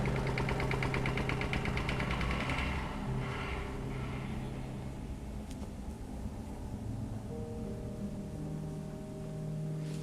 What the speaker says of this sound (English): But I only saw a rumbling tractor that was creeping out from the corner.